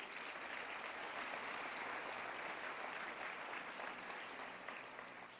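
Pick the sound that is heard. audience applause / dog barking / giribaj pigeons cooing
audience applause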